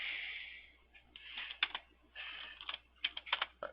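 Quick clicking keystrokes on a computer keyboard, tapped in uneven bursts with short pauses between, close and fairly faint with no talking.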